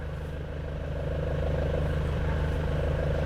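Nissan Frontier clutch giving a faint rattling clatter as the pedal is pressed, a steady low engine idle hum running underneath throughout at moderate level.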